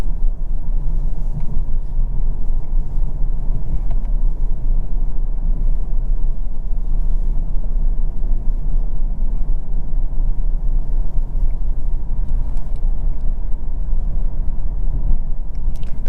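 Inside a 2022 Genesis G70 3.3T Prestige AWD on the move, a steady, loud low-frequency road and engine rumble fills the cabin without pause, with faint occasional ticks and no talking.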